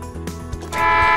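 A short toy truck horn toot sounds near the end, following a few light thumps and clicks, close and fairly loud.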